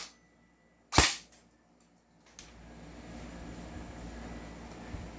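A Sig M4A1 airsoft carbine, a tan model upgraded to around 431 FPS, fires a single sharp, loud shot close by. A faint rattle follows, then a low background hum.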